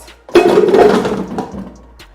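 Water poured into a cooking pot for boiling yam, a loud splashing gush that starts abruptly, holds for about a second and tapers off.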